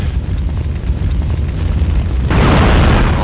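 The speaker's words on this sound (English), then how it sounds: "Big explosion." A loud explosion bursts in Resident Evil 3: Nemesis on the Dreamcast, a rumbling roar building and then breaking into a sharp, broad blast near the end, with no voices.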